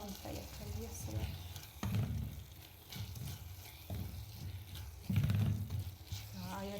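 Food sautéing and being stirred in a pan, a soft sizzle with intermittent scraping strokes heard under someone speaking throughout.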